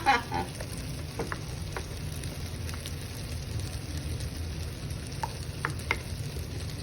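Six eggs cook in a frying pan with a steady low sizzle and crackle, broken by scattered sharp clicks and taps from utensils against the pan.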